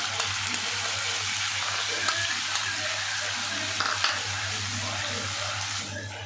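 A ginger, garlic, onion and chili paste fries in a pan for a lotte fish curry, a dense, continuous, close sizzle with light stirring scrapes and a steady low hum underneath.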